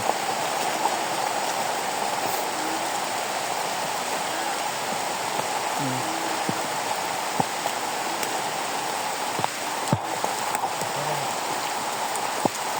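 Water flows through a rice field as a steady, close, continuous rush, with a few faint clicks and splashes along the way.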